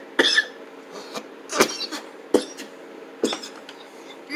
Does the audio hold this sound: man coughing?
yes